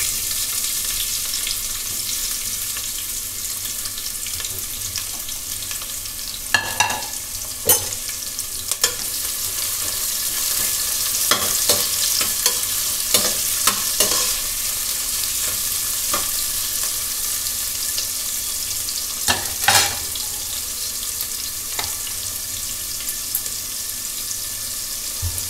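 Sliced onions frying and being stirred in a pan, with a steady sizzle throughout and occasional louder scraping stirs of the spoon, close and without talk.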